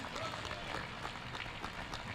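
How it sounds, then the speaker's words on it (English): Graduation audience applauding at a 2024 high school ceremony, a steady, dense wash of clapping filling the hall for the full stretch, fairly quiet and distant. "one more round of applause for our 10 people who signed the honor book"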